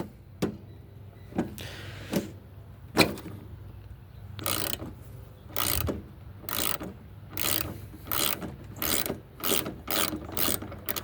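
A ratchet fitted with a 14mm socket loosens bolts on a John Deere JS25 lawn mower, its pawl clicking in short close-up bursts that quicken into a steady back-and-forth rhythm.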